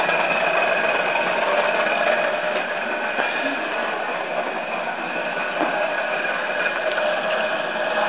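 Blower fan motor on a homemade gas forge, running as a steady, close hum and whir with constant loudness throughout, no talk over it.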